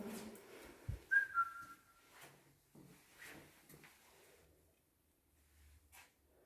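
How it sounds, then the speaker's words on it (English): A short whistled note, thin and steady, sounds once near the start amid faint room noise and soft knocks, inside an abandoned nunnery. "Can you whistle back?"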